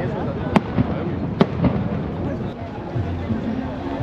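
Fireworks go off at the arrival village of the Transat Café l'Or race in Martinique, with a few sharp pops and crackles over steady crowd noise and nearby talking.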